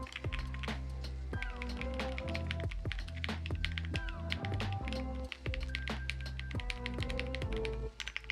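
Rapid, steady typing on a mechanical keyboard fitted with PBT keycaps, with crisp, dense clacks and key taps running continuously and close up, no voices.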